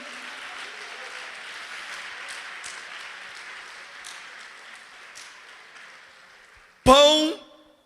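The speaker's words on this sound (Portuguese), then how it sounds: "Aleluia, pode aplaudir a Ele." A church congregation applauds in a broad, soft wash of clapping that fades gradually, then a loud, abrupt burst of sound cuts in near the end.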